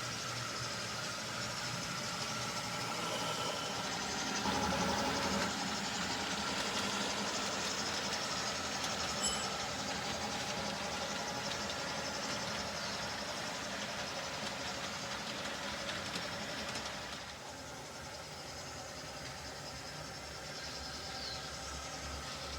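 An HO scale model train runs steadily across a large layout, giving a continuous rolling rumble and clatter from nearby throughout, which eases slightly toward the end, with no talk.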